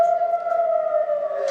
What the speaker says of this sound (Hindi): इन तस्वीरों में देखिए सायरन बज रहा है युद्ध का।